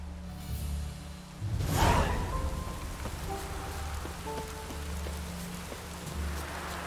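Steady rain patters across surfaces in a video game, a sudden whooshing gust swelling briefly near the start before the downpour settles into an even, close hiss with faint tonal game sounds underneath.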